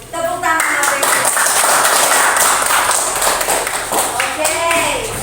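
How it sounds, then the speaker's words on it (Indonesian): Classroom applause from a group of students and adults, a dense, steady wash of hand clapping that fills the room from start to finish, with a few voices calling out over it near the beginning and end. "Tepuk tangan Bapak Ibu"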